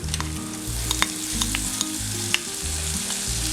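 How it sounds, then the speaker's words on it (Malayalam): Washed prawns hit hot oil with onion in a Kerala-style stir fry, giving a loud, continuous close sizzle with a few sharp crackles and stirring scrapes, while low tonal sounds run underneath. "ഇനി ഇതിലേക്ക് നമ്മൾ കഴുകി വെച്ചിരിക്കുന്ന ചെമ്മീൻ ഇട്ട് കൊടുക്കാം."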